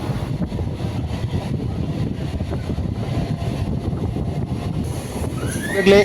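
A local EMU electric train on the Tiruvallur to Ponneri line runs steadily with a deep, continuous rumble and rushing wind noise, ending with a rising wheel squeal and a louder burst.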